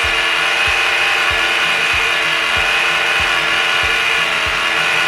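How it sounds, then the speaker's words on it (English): A homemade ice cream maker's motor strains as the mix thickens, turning with a steady, regular ratcheting churn about twice a second over a constant mechanical whir, close up and with nobody talking. "I want you to listen to the motor. You can hear that it's really starting to lug and not be as fast"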